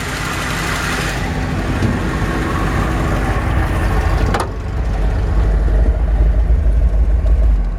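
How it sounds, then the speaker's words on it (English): A 1979 MGB convertible engine idles steadily up close, a continuous mid-range rumble with a brief sharp click partway through before the idle carries on unchanged. "little engine runs good"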